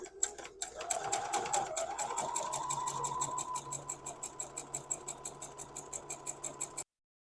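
A sewing machine stitches a half square triangle quilt block, running as a steady, close mechanical whir with a fast even pulse for several seconds before stopping abruptly.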